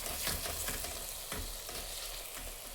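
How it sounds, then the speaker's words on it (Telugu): Stuffed brinjal curry (gutti vankaya) is stirred in a pan with oil risen to the top, giving a close, steady sizzle with repeated scraping strokes of the spoon through the thick gravy. "ఇప్పుడు ఒకసారి దీన్ని కలిపేసుకుందాం"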